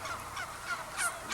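A tom turkey gives a short series of quiet, rough, warbling calls, a few brief notes close together and fairly faint.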